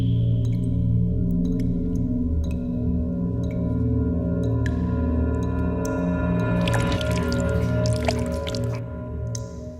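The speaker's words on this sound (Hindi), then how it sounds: "पानी लीक हो रहा है टेरेस पर।" Water leaks and drips onto a terrace, scattered irregular drops ticking and plinking over a steady low background hum, with a denser splashy patch near the end.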